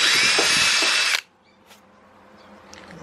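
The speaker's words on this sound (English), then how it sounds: "Plastic was obviously pretty easy to drill through." A power drill whines loudly through plastic on a Miata bumper for just over a second, then cuts off sharply, leaving quiet background with a few faint clicks.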